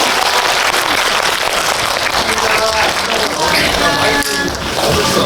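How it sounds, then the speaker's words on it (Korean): A crowd at a Christmas special film screening and guest talk claps loudly and steadily throughout, a dense wash of applause with some chatter mixed in. "오늘 함께해 주신 세 분께 다시 한번 큰 박수 부탁드립니다"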